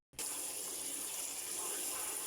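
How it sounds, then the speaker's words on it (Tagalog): Running tap water pours steadily over molokhia (saluyot) leaves being washed in a sink, a close, continuous gushing stream that starts abruptly and holds at an even level. "Ganito magugas ng Molokhia guys."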